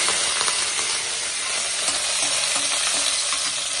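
Curry leaves frying in hot oil in a kadai with tempering spices give a loud, dense, continuous sizzle and crackle, close up, with no talk.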